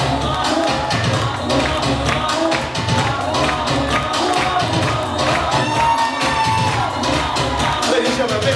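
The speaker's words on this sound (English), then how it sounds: "Ladies and gentlemen, big round of applause" Wedding guests at a sangeet and reception clap and cheer steadily and loudly, a dense crowd roar with whoops and applause filling the whole stretch without a break.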